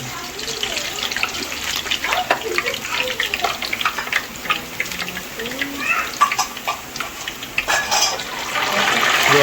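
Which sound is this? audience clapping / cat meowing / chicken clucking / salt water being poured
salt water being poured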